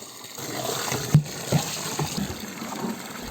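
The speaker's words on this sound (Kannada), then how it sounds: "ಮೊದಲು ಪೊಟ್ಯಾಶ್ ಅನ್ನು ಬ್ಯಾರೆಲ್ಗೆ ಹಾಕಿ ಅದರಲ್ಲಿ ನೀರು ತುಂಬಿ ಅದನ್ನು ಕದಡಬೇಕು" Water gushes into a barrel holding red potash as it is stirred for drip irrigation, a steady splashing rush with a few dull knocks, close and moderately loud, with no voices.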